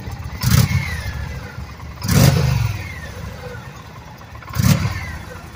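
A 2022 Indian Challenger base V-twin motorcycle on its original, fairly quiet exhaust, revved three times in short bursts that rise and fall back to a steady idle between them.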